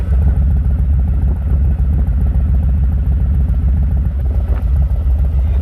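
A Harley motorcycle with Vance and Hines exhaust pipes rumbles loudly and steadily, its deep throaty engine note close and continuous throughout.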